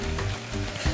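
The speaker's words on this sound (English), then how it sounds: "Stir-frying the ingredients well will maximize the flavor" Seaweed and other ingredients stir-frying in sesame oil for vegan miyeokguk, a close, steady sizzle with a brief stirring scrape near the end.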